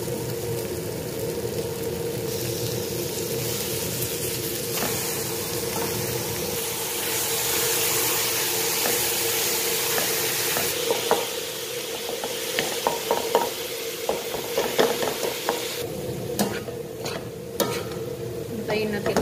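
Lasagna sauce ingredients frying in a pan until golden brown, a steady close sizzle with scraping stirs and a few clinks of utensil against pan.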